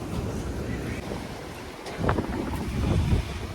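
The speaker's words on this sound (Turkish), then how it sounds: "Oo dalgalara bak dalgalara" Sea waves and gusty wind at a shore campsite in Istanbul, a rough low rumble of surf with wind buffeting the microphone and a couple of louder wave surges.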